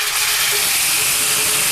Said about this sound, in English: Now we're going to go ahead and add our tomato sauce mixture.